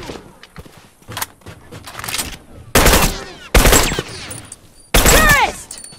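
Rifle gunfire in a multiplayer video game, sharp loud bursts striking in separate blocks with short gaps, over quieter footsteps and scattered clatter.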